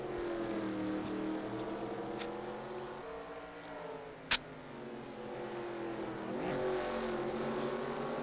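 Race cars at the 24 Hours of Sebring roar past on track, a steady layered engine drone with rising and falling pitch as cars pass, one sharp brief knock midway, no talk.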